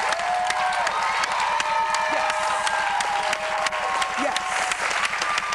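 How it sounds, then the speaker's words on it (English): A talk-show studio audience claps steadily in a dense, sustained round of applause, with a voice speaking over it. "You brothers need to be applauded"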